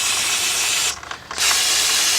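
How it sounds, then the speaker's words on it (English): Brake cleaner sprayed onto car front brake parts, a close, loud aerosol hiss with a brief pause in the middle before it resumes. "get you some carburetor cleaner or brake cleaner"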